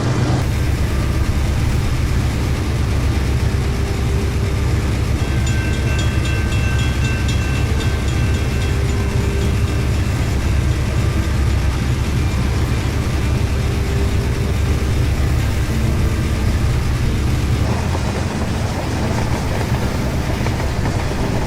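A heavy freight train rolls on rails with a continuous loud rumble and rattle, steady throughout with faint tonal squeals and a shift in texture near the end.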